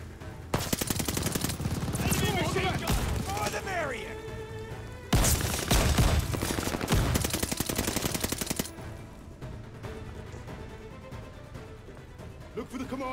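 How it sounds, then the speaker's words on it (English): Enemy machine-gun fire in Call of Duty Vanguard, loud sustained automatic bursts with heavy impacts and booms, breaking off, then resuming in a second long volley before thinning out, with a voice talking in between. "Enemy machine gun."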